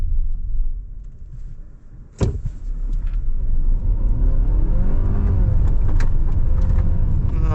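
A 2026 Hyundai Palisade 2.5T hybrid, driven in eco mode, accelerates at full power with the front wheels spinning slightly. The engine and road roar build steadily and loudly after a sharp onset, close and continuous, with no talking.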